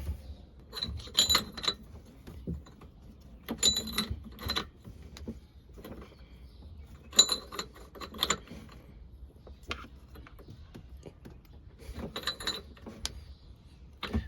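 A ratchet tightens an O2 sensor on a SeaDoo 325 engine. It gives several separate bursts of rapid clicking, each a second or two long, close to the mic with quiet pauses between them.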